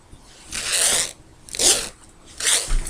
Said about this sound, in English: And that's how you do a zipper attachment.